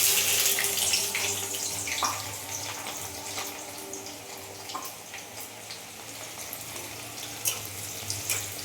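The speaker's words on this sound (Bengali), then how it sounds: "দিয়ে লাল করে বেরেস্তাটা ভেজে নেব" Chopped onions frying in hot oil to make beresta for chicken biryani, a steady close hiss and crackle of sizzling with occasional louder pops, continuous throughout with no talking.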